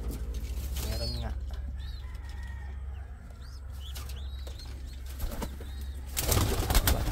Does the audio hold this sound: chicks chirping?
yes